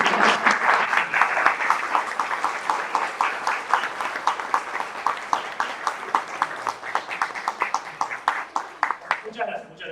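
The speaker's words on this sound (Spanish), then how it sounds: "vamos a aplaudirlo porque va a seguir hablando" A live audience at a Spanish-language talk claps steadily for about ten seconds, dense applause with distinct individual claps standing out, thinning slightly at the end.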